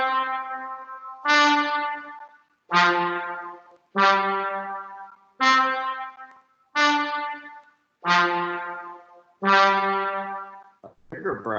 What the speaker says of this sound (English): Another brass instrument is the trombone,